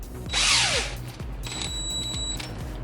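DEWALT cordless drill boring a hole, a short burst of whirring motor spinning up and winding down, then a steadier high whine, close by.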